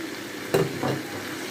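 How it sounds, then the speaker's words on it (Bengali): Pre-fried potatoes and pointed gourd tipped into cooked-down masala in a pan, making a brief sharp sizzle with a soft stirring scrape just after. "এখন আমি আগে থেকে ভেজে রাখা সেই আলু আর পটল সবগুলো দিয়ে দেব।"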